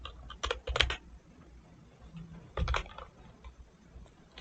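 Typing Python code on a computer keyboard, two quick bursts of close, crisp key taps separated by a quiet pause.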